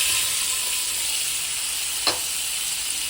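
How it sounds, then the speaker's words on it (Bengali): Cumin and chili powder fry in hot oil with a steady, close hiss, broken by one brief clink of a utensil near the end. "এইবার এটা হালকা করে ভেজে নেব। তেল গরম হয়ে গিয়েছে।"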